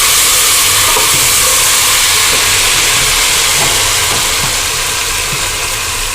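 A kitchen mixer grinder whirs steadily as it grinds a yogurt mixture for Punjabi kadhi pakora, giving a close, loud, continuous motor hiss with no voices.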